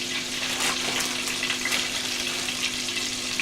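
Potatoes for smothered potatoes fry in a covered pan, giving a steady close sizzle and crackle with soft bubbling and a faint low hum underneath.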